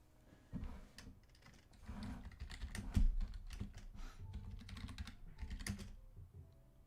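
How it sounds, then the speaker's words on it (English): Fingers clatter across a computer keyboard at close range, a quick irregular run of soft plastic key taps with brief pauses between bursts. "let's type that in"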